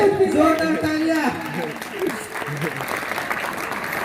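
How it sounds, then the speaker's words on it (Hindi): Hearty applause from an audience at a school Children's Day and annual function celebration, with clapping sustained under a loud voice speaking at the start. "जोरदार तालियां।"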